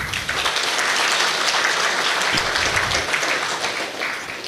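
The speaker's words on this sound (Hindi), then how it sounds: "इसके लिए बहुत जोरदार तालियां।" A large audience at an Engineers' Day inaugural ceremony bursts into loud, sustained applause, thick continuous clapping close up that tapers off at the very end.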